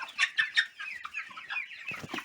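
A Cobb 500 broiler cockerel clucks in short, clustered bursts close by, a run of quick throaty calls with a brief louder flurry near the end.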